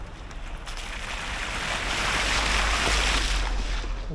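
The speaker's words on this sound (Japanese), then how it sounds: "水たまりだ水たまり" A Suzuki Jimny Sierra on off-road tyres ploughs through a puddle on a gravel track. A broad rushing wash of water and tyre noise swells steadily and peaks toward the end, with no talk.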